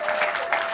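A brief burst of applause from a concert audience at a private radio-hosted show, a dense patter of clapping heard for under a second at moderate volume.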